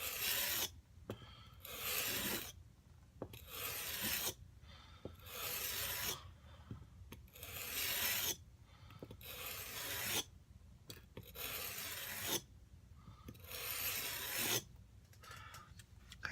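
Plane iron sharpened on a stone in long, even strokes, a close scraping rasp repeating about eight times with short silent gaps between each pass.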